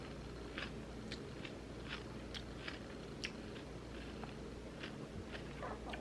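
Crisp, close crunches of rice-and-chickpea veggie chips being bitten and chewed, with repeated sharp bites over a steady low background hum.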